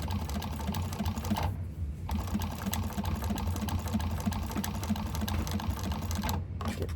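A sewing machine hums and ticks steadily while back stitching a raw-edge leather wallet, a fast regular stitching rhythm with a couple of brief pauses and no talk.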